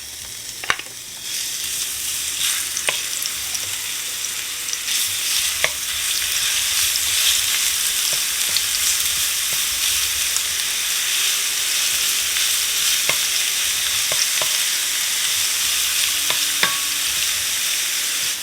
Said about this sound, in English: Now I'm adding 2 cloves of crushed garlic.